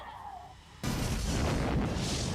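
A self-destruct explosion in the video game Nier Automata bursts in suddenly after a quiet tonal hum, then roars on as a loud, dense, sustained rumble to the end.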